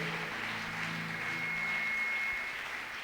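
A church congregation applauds in a sustained, even wash of clapping that holds steady throughout at a moderate level, with no talk over it.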